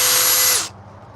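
A power drill whirs briefly, driving a countersink screw into wood for coffee table legs, then cuts off abruptly into quiet.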